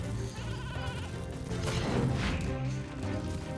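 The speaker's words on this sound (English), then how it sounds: "sheep appear to be immortal in this game" Sheep bleating in the video game Skylanders: Spyro's Adventure, sounding as a few brief calls over steady game music and ambience, with a louder burst partway through.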